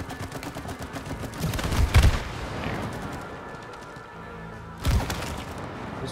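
Video game gunfire aimed at insect nests, a dense rattle of shots with two heavy bursts, one near two seconds and another just before five, loud and close with no voices.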